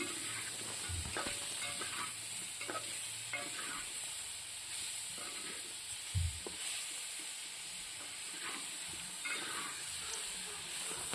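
Spice masala being sautéed and stirred in a pan, a continuous hissing sizzle close by with scraping stir strokes and a brief thump, no talk.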